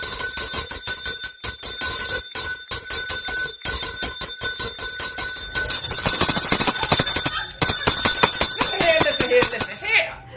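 A bell rings in rapid repeated strikes, bright and metallic, for several seconds with a voice speaking in the background.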